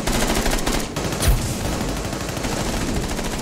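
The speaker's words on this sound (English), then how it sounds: "They're shooting flames." Rapid gunfire from a Rainbow Six Siege match, with bursts of automatic shots and a sharp louder report, dense and continuous against a busy game background, with no voice over it.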